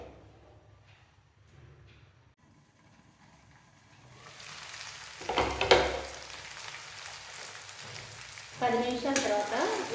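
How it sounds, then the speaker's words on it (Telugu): Broad beans and tomato curry simmering and sizzling in a pan, quiet at first and then building into louder bursts of frying hiss with stirring, and no talk. "కలిపి సిమ్లోనే ఒక 10 నిమిషాల పాటు ఉడికించుకోవాలి."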